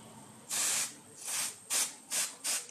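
A L'Oréal hair colour spray gives five close, sharp hissing bursts, the first one longest and the last three quick and evenly spaced, with no speech.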